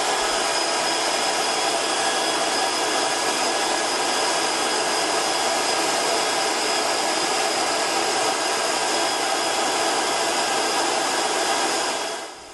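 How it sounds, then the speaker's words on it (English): The cooling fan of a SMACO HPA portable air compressor runs with a loud, steady whooshing whir, constant for about twelve seconds before cutting off at the very end. "You're going to hear a fan turn on as soon as you plug it in."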